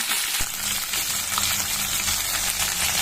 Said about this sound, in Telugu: బాగా వేయించిన తర్వాత బీన్స్, అన్ని వెజిటేబుల్స్ వేసి బాగా వేయించుకోవాలి.